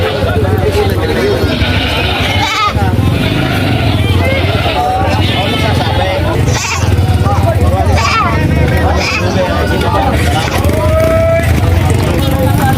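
Goats bleat repeatedly in a noisy crowd of livestock at a livestock market, calls overlapping near and far while people talk loudly throughout.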